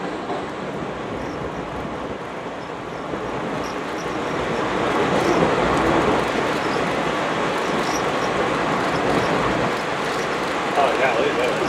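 A Naugatuck Railroad passenger train rolls through a rock cut, a loud, continuous rumble with wind rushing past that swells midway and holds steady.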